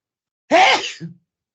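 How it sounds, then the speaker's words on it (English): A single sharp sneeze, close and loud, in otherwise silent surroundings. "A sneeze."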